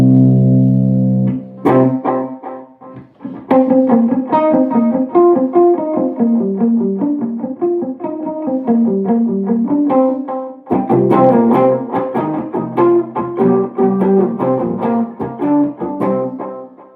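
Electric guitar through a fuzz pedal with the boost turned up, loud sustained distorted chords and riffs played alone, starting with a held chord, then busy picked phrases and a strummed section near the end.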